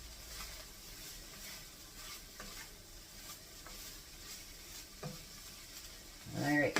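Hamburger and onions fry in a pan, giving a steady soft sizzle and hiss with occasional stirring scrapes. It stays fairly quiet and close, with a louder clatter right at the end and no talking.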